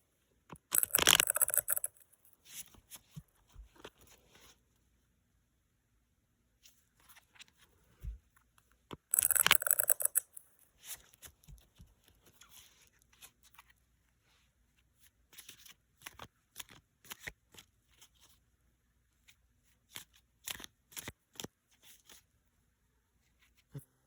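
Tarot cards are shuffled close up in two quick riffling bursts, followed by softer scattered taps and handling of the deck.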